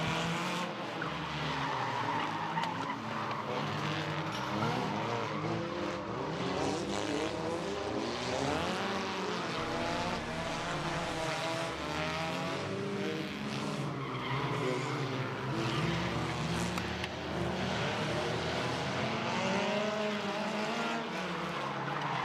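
Stock race cars battling on a track, a continuous loud roar of several engines rising and falling as they pass, with a steady wash of noise throughout and no voices.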